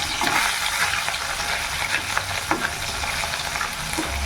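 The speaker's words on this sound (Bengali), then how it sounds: "এখানে চুনো মাছ ভাজা চাপিয়ে দিয়েছি।" Small river fish, khoira and a few others, fry in a pan of hot oil with a loud, dense, continuous sizzle and spatter, plus occasional stirring scrapes, close and steady.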